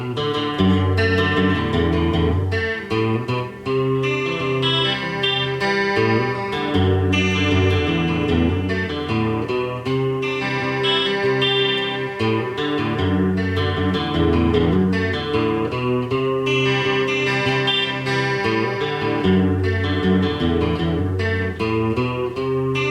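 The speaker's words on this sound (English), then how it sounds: "Let's try it with some reverb." A clean electric guitar tone played through a Line 6 Helix with reverb rings out in a loud, continuous run of chords and melodic notes with lingering ambience, alone and without speech.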